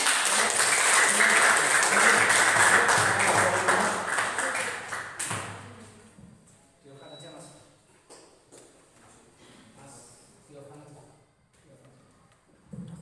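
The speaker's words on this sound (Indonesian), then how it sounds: "Ya, tepuk tangan." A classroom of students clapping their hands during a lesson, a dense burst of applause for about five seconds that quickly fades, followed by quieter room noise, shuffling and faint voices.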